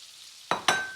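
Salmon searing in a pan of brown butter, a soft background sizzle broken by two sharp crackling bursts as the fish is moved, with no talking.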